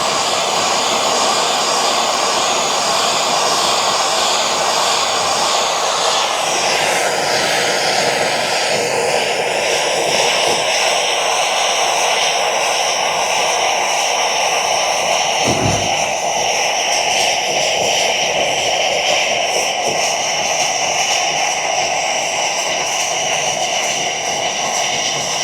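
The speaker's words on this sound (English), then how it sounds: "we're going to heat around the area like this" A heat gun blows hot air onto foam in a jon boat, producing a loud, steady rushing whoosh that fills the entire stretch, with its pitch shifting slightly partway through and one brief low thump.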